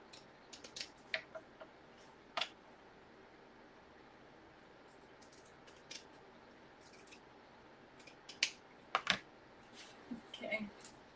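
Scissors snip through a piece of craft material for a chalkboard project, a few sharp isolated cuts spread out with quiet pauses between, close and fairly soft.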